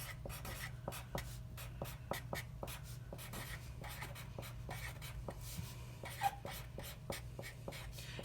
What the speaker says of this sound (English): oh my gosh, the sound of this pen